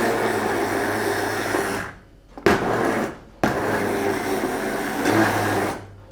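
A kitchen blender whirring steadily as it purées roasted garlic and carrots, loud and close, stopping briefly twice before the motor starts up again.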